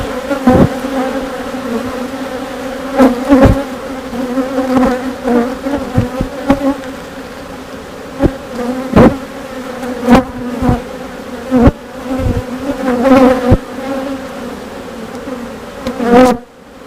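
Honeybees buzz steadily around an opened hive during an inspection, a dense loud drone with sharp close passes of individual bees and knocks of handling throughout.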